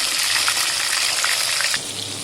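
Batter-coated prawns frying in a pan over full heat give a steady, bright crackling sizzle with scattered pops, then settle into a slightly calmer hiss.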